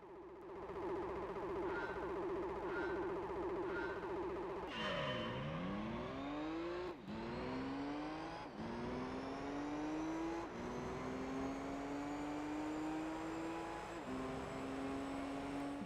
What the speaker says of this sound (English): now we have the Nissan R390 GT1 LM race car